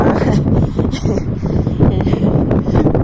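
Strong wind roars and buffets the microphone steadily at the seaside, a loud continuous rumble with no voices.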